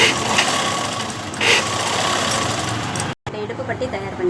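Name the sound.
sewing machine stitching a waistband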